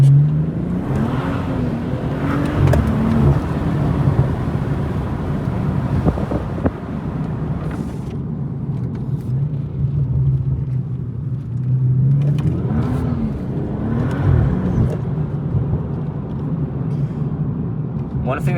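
A BMW M240i driving a mountain pass, its engine note droning steadily and rising and falling through gear changes, heavy wind buffeting throughout, with a person talking over it.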